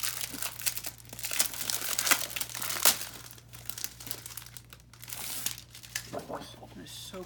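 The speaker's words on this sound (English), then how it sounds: "So we will open that up and flip through the papers real quick." A pack of double-sided patterned craft paper is opened and flipped through, giving close, continuous crinkling and rustling with sharp crackles and page flicks under a low steady hum.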